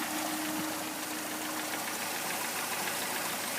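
1983 Dodge Aries with a 2.2 liter four-cylinder engine idling smoothly, a faint steady low hum with a slight regular knock throughout.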